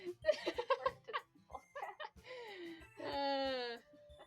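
A voice imitates an Angry Birds bird cry with a drawn-out, wavering squawking wail, following bursts of laughter and chatter at close range.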